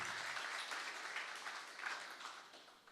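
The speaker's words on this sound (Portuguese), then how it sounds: "Você pode aplaudir o Senhor?" Church congregation applauding during a sermon, a continuous crowd of clapping hands heard from some distance, fairly quiet and gradually tapering off over three seconds.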